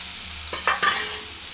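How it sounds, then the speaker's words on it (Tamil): Boiled vegetables stirred and frying in a pan for a veg Maggi dish, a steady hiss with a few scraping stirs in the middle, close and moderately loud, no talking. "நல்லா ஃப்ரை பண்ணிக்கணும்"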